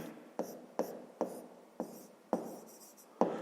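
Pen or pencil writing on paper while working a grade 5 maths exercise, a series of about seven short scratchy strokes at steady intervals, close and fairly quiet, with no talk.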